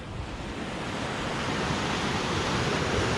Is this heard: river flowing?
yes